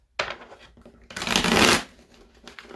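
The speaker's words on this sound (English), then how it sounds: "now let's see if we can pull a Romax Studios cards." A deck of tarot cards is shuffled by hand up close, a crisp riffling burst followed by a longer flurry of cards, then softer handling as cards are pulled.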